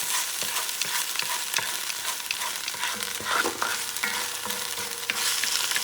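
Garlic and sofrito frying and being stirred in a large cast iron pot, a steady close sizzle with scattered clicks and scrapes of a utensil throughout.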